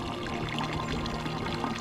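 Clean, cold spring water pours steadily from a natural source somewhere in Korea, a continuous close splashing stream with no voices over it.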